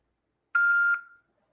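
Single electronic voicemail beep before a message is left, a clean steady tone lasting about half a second that fades off quickly, heard alone against silence.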